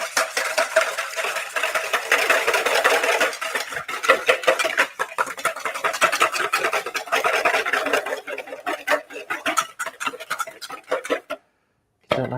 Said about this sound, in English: Actually, I'm going to whisk this up just to get it nice and